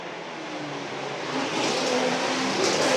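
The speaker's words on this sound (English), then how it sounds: "It'll be Kurt Busch trying to make the move on Kanaan as they head for turn 1's braking zone." Race cars on track during an IROC Grand Prix road race in Washington D.C., engines roaring steadily and growing louder as the cars pass near heading toward a braking zone.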